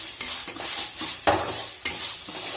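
Onions sautéing in a pan, a steady close sizzle and frying hiss broken by several scraping stir strokes, with no voices.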